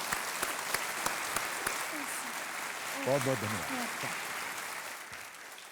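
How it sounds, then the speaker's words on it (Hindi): Studio audience applause on a Hindi television quiz show, a steady wash of clapping throughout with someone speaking briefly over it midway. "एक बार तालियों के साथ इनका अभिनंदन।"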